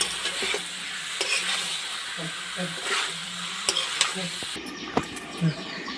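Beef frying with spices in a pan, a steady sizzle with scattered scrapes and stirring clinks throughout, some faint voice in the background.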